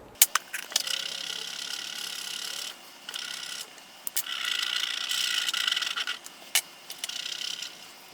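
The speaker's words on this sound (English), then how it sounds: "just scraping and goo remover junk and scraping and goo remover and over and over" Old tape residue being scraped off the case of an IBM 5154 CRT monitor: bursts of dry rasping and scratching strokes, close by, coming in uneven runs with short pauses between them and no voices.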